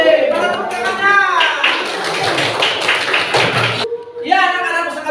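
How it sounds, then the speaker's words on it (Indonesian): Schoolchildren in a primary madrasa classroom break into a burst of clapping lasting a few seconds, framed by an adult voice speaking before and after. "Tepuk tangannya."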